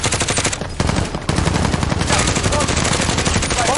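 Dense, continuous automatic gunfire from a Warzone match, rapid overlapping shots at close range with a brief lull near the one-second mark before the firing resumes loudly.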